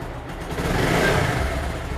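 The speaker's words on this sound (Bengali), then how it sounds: "ইঞ্জিনের সাউন্ডটা দেখান কত ফ্রেশ গাড়ি এটা ভাই" A 2020-model motorcycle in fresh condition, idling nearby with a rough mechanical clatter and a brief rev swelling in the middle, loud and close, with no talking.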